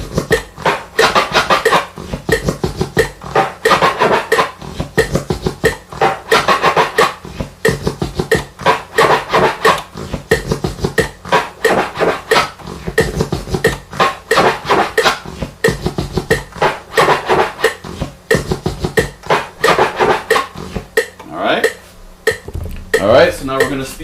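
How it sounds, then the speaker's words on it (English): Rapid turntable scratching in a scribble and half-flare combination at 90 BPM, dense buzzing back-and-forth record strokes running continuously and loud, with a brief pause and lighter scratches near the end. "it's going to be a scribble, and then a half flare, and then a backwards scribble, and then a backwards half flare"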